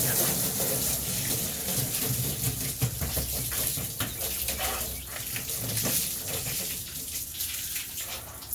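Water runs and splashes continuously, a steady gushing flow with some fluctuation and no talking.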